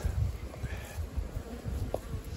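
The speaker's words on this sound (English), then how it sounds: "the bees are clustering over the queen excluders" Honeybees buzzing as they cluster over queen excluders on a hive during heather honey removal, a steady low hum close by with faint rustling and no voices.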